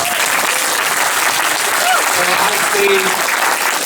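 Steady, loud applause from an audience at a community centre concert for saxophone and drum performers, dense clapping filling the room throughout with a few cheers and voices rising over it.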